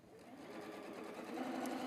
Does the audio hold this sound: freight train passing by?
no